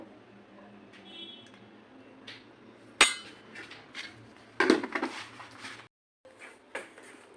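A spoon or whisk clinks and knocks against a bowl while sugar, flour, oil and yogurt are mixed into an eggless orange cake batter, with a few sharp taps over soft scraping and a brief pause near the end.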